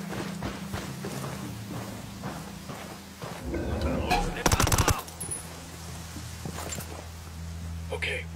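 A turret machine gun rattles in a night-time firefight in Ghost Recon Wildlands, a loud rapid burst swelling midway over a low engine-like hum, with voices talking and footsteps around it.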